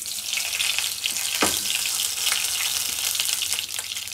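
Black cumin seeds and bay leaves tempering in hot oil in a wok, a steady close sizzle with a brief sharp crackle burst, no talking.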